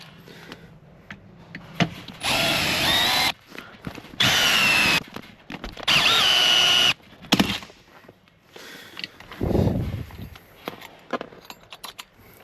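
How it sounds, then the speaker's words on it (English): A handheld drill drills out three rivets on a car handbrake assembly during an upgrade install, three loud bursts of whining drilling of a second or so each, separated by pauses with clinking tool handling. "we take a drill and the drill bit that's supplied in the kit, and we're going to drill out these 3 rivets"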